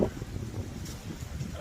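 Wind buffets and rumbles across the microphone in low, gusty waves, with a faint rustle on top.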